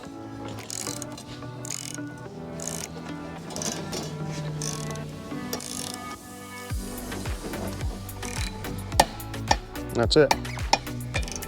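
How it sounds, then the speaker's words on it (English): A ratchet on the propeller of a Mercury outboard motor is cranked tight, with the prop blocked by a carpeted wood block; rapid close metallic clicking builds into sharp clacks while someone talks briefly. "block of wood with carpet for us is what we use to help tighten down the prop"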